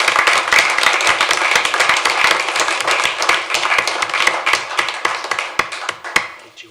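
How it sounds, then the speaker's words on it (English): Audience in a city council chamber applauds honored Midvale teachers, a dense burst of many hands clapping that stays steady, then gradually thins toward the end. "Can we give them a round of applause?"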